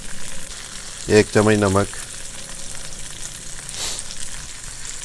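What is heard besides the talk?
peas frying in oil with garam masala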